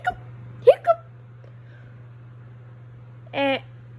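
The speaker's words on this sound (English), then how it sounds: "Guys, I think I have the hiccup." A cartoon character hiccuping in a few short, sharp voiced bursts, separated by quiet gaps over a faint steady hum, with a longer voiced sound near the end.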